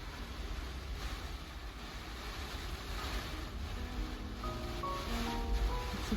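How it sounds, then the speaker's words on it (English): Wind and ocean waves on the Newfoundland coast during cold rain, a continuous rushing wash with gusty swells, with faint tonal sounds rising near the end. "You hear that wind? And that waves."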